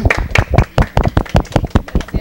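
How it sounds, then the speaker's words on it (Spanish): Students applaud their teacher in a classroom with loud, close, distinct claps in an uneven, rapid rhythm, a small group rather than a large crowd. "yo primero le quiero dar un aplauso a la maestra, por favor."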